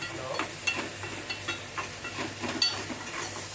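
Stuffed bread sizzles steadily in a hot pan, a close, even crackle of frying with occasional light scraping and stirring sounds over it.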